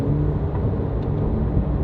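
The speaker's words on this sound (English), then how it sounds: "But one click of the dial, the sports exhaust is now open," Porsche 992 Carrera with a Valvetronic Designs titanium sports exhaust and OEM downpipe, its valves open, giving a continuous deep exhaust drone that is close, loud and steady, with no talk.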